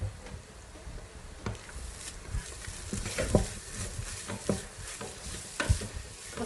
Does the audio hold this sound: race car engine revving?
no